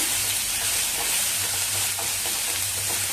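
Garlic, chili and ginger paste sautéing in a pan gives a continuous dense sizzle, with soft stirring scrapes underneath and no talk.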